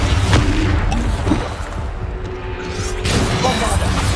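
Rapid-fire spell blasts in Hogwarts Legacy, including Bombarda, Depulso and Descendo, make loud, dense booms and crashes that run almost without pause, with a short, slightly quieter lull midway.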